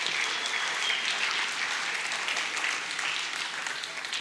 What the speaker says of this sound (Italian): accogliamoli con un bel applauso